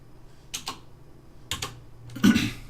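Terminal commands are typed on a computer keyboard in short clusters of two or three quick clicks, separated by pauses, the last cluster louder and denser, with no voice heard.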